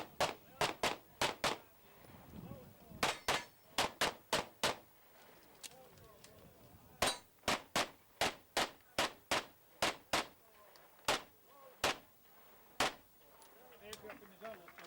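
Handgun shots ring out in rapid strings and spaced pairs during a stage of the 2016 IPSC European Handgun Championship, sharp and loud, with an announcer speaking quietly between them.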